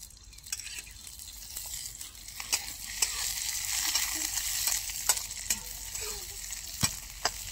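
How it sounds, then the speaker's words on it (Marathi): Green chillies and garlic frying in a little oil, a steady close sizzle rising slightly over time, with sharp clicks and scrapes from stirring scattered throughout. "मिरच्या आणि लसूण परतत आहे"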